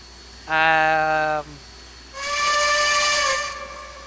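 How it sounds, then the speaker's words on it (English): Two blasts from a Camelback steam locomotive whistle, a short bright chord followed by a longer, higher-pitched hissing blast, both loud and close with no talk over them. "It does sound similar to like the Redding T1's whistle, but it's a higher pitch"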